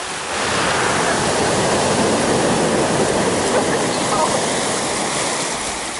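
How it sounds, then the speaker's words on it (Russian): Sea waves break on the shore at Adler in October as a loud, continuous roar of surf. A voice can be heard faintly beneath it. "Посмотри, волна большая пошла, Нюша"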